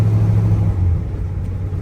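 A 1966 Chevrolet Caprice's 396 engine rumbles loudly at low pitch, holding a steady rev before easing down, close and without talk.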